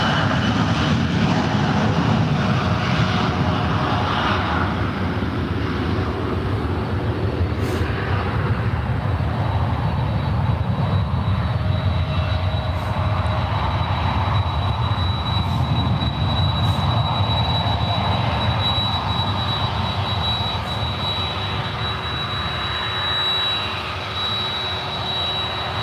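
A Jazz CRJ 900 jet airliner, flight 564 bound for Edmonton, roars steadily at an airport, a broad sustained engine rush with a faint whine that holds for the full stretch, with no talking.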